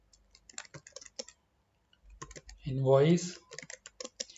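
Typing on a computer keyboard in a brief burst of key clicks, with someone talking before and after it.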